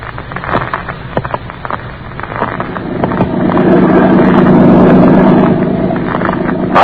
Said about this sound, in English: I sit here in the boat as it skims over the lake toward the mainland.